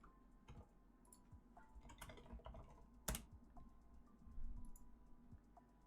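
Quick, irregular clicks of fingers typing on a computer keyboard, faint and close, in short bursts with brief pauses and one sharper keystroke.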